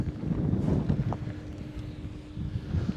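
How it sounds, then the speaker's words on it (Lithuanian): Strong wind in the Sahara desert buffets the microphone with a steady low roar and rumble, gusting slightly louder in places, with no voices. "Vėjas žiaurus"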